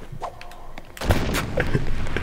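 Grenade blast in the Let It Die game: a loud burst that erupts midway and rolls on in rumbling debris, following quieter game sounds.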